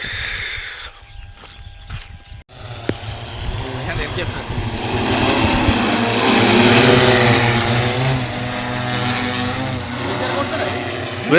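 An agricultural spray drone's buzzing motor whirs nearby, rising and holding steady as it hovers, while someone talks over the noise.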